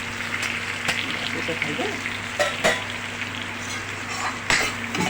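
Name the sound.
fenugreek, nigella, cumin and chopped ginger tempering in hot oil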